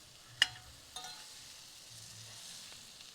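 Potatoes stirred with spices in a pan for samosa filling, with a faint sizzle and two sharp clinks of a utensil against the pan early on, quiet and close.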